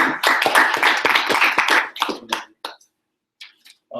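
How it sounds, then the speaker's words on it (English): Audience applause following a presentation at a televised debate session, a dense burst of clapping for about two seconds that thins out to scattered claps and fades, with brief quiet gaps near the end. "let's give him a round of applause"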